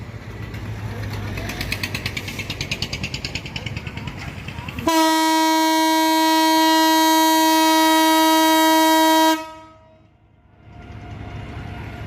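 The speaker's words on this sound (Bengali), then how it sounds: "দ্বিতীয়বার হুইসেল দিয়ে ট্রেনটা এখান থেকে ছেড়ে যাচ্ছে" The Kurigram Express passenger train rumbles along, then sounds a long, loud steady horn blast for several seconds before it fades back into the rolling rumble of the departing train.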